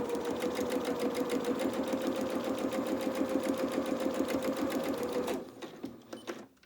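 Sewing machine running a row of stitches over net fabric, a fast, even mechanical rattle that stops near the end, followed by a few soft clicks and handling sounds.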